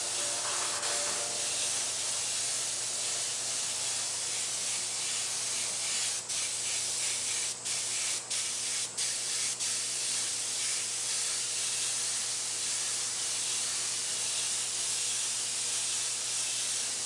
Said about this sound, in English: I'm gonna go ahead and spray a little bit of black where his body's gonna be